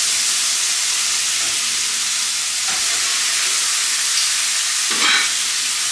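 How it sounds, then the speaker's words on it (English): Bacon strips sizzle in a pan on the stovetop with a steady, loud hiss, and a brief burst of spitting near the end as the strips are flipped. "we're gonna flip our bacon"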